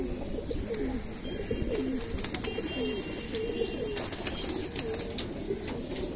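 Pigeons in a large home loft coo continuously, with overlapping low, rolling calls repeating throughout over faint background noise.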